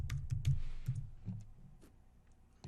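Typing on a computer keyboard, a loose run of close, crisp key clicks with uneven gaps, heaviest in the first second and thinning out toward the end, with no talking.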